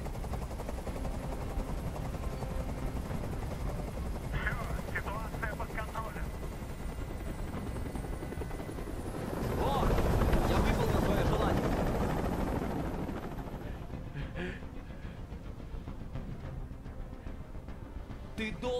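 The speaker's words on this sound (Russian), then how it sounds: "Прикажи им, чтобы вертолет убрался!" A helicopter hovers in the video game Detroit: Become Human, its rotor a loud continuous thrum with a rush that swells midway, while game characters talk over it.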